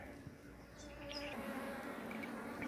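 A captured bee swarm on a hive frame in Chapada Diamantina, Bahia, hums quietly in a soft, steady buzz, with a few brief higher tones from nearby insects.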